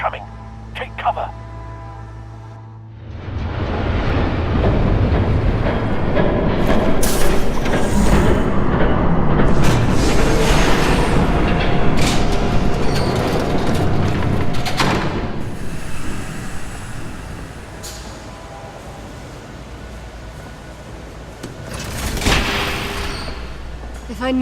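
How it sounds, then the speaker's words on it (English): A train approaches in Batman: The Telltale Series as a loud, sustained rumbling roar that builds and holds for many seconds, then eases off, with voices talking around it. "There's a train coming."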